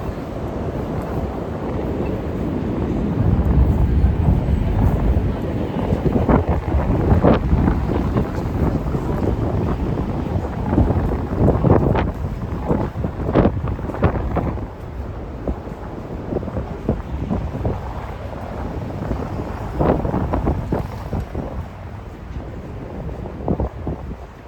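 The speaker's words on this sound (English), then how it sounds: "It's probably going to get really windy on top of the Brooklyn Bridge." Strong wind buffets the microphone on top of the Brooklyn Bridge in heavy low rumbling gusts, with a steady roar of distant traffic underneath.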